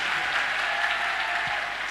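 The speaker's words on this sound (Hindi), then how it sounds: "इसलिए सर के लिए जोरदार तालियां" An audience of students at a coaching class in Khargone gives loud applause for a guest presenting a gift, a dense, even roar of clapping that holds steady without a break.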